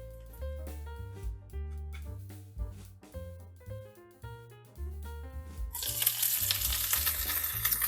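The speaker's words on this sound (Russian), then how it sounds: "Все красиво, все обжаривается." Keto pancakes with salmon sizzle and crackle in a hot pan, rising to a loud, steady frying hiss, with music playing underneath.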